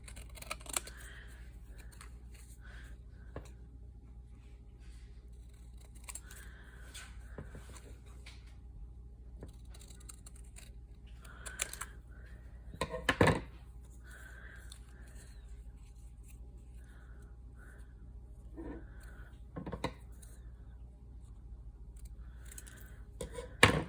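Scissors cut paper pieces for altered playing cards at a close tabletop, giving soft, intermittent snips and crisp rustles, with a few louder handling clicks and thumps in a quiet room, and faint talk now and then.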